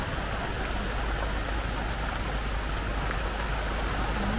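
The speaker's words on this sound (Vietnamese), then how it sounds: "Hôm nay thì mưa quá mưa rồi." Heavy rain pours steadily outdoors in the countryside, a dense, continuous hiss that stays loud and unbroken throughout with no voices.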